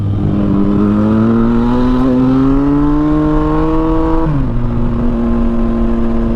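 Yamaha FZ-09 (MT-09) naked motorcycle engine revving as it rides off, a loud close whine climbing steadily in pitch for several seconds before dropping at a gear change and settling into a steady drone.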